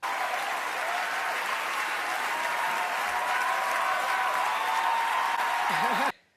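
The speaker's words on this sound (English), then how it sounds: "there you go, the applause by all those other leftist liberal Hollywood shills who are obviously loving Meryl" The Golden Globes ceremony audience applauds Meryl Streep's speech with sustained, dense clapping from a large crowd, steady for about six seconds before cutting off abruptly as a voice begins.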